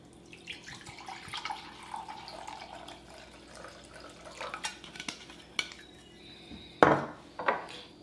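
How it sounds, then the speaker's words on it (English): Water and apple cider vinegar poured into a pot for jalapeño pickling liquid, a steady trickling splash with clinks of kitchenware and two sharp knocks near the end. "So I have 1 cup of water that I'm going to add to a pot"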